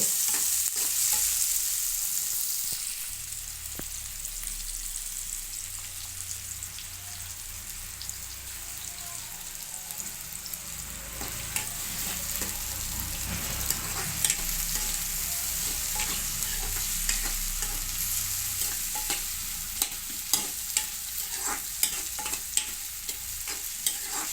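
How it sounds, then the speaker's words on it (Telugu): Onion pieces fry in a pan for a Telugu brinjal roti pachadi, a steady close sizzle and hiss that runs throughout with faint stirring scrapes and small crackles and no talking. "ఉల్లిపాయ ముక్కలు బాగా ద్వారగా వేపుకోవాలండి"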